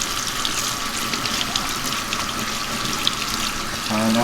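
Warm water runs steadily from a tap over a deep purple and blue-violet tie-dyed tee being rinsed at a sink, a constant close splashing stream with a shift in flow near the end.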